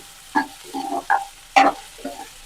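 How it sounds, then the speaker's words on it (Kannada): Onions, green chillies and curry leaves frying in a pan while being stirred, a few short bursts of sizzle and scraping close by, separated by quiet gaps. "ಅದಕ್ಕೀಗ ಈರುಳ್ಳಿ, ಹಸಿಮೆಣಸಿನ್ಕಾಯಿ, ಕರಿಬೇವು ಇಷ್ಟು ಹಾಕಿ ಚೆನ್ನಾಗಿ ಫ್ರೈ ಮಾಡ್ಕೊಳ್ಳಿ."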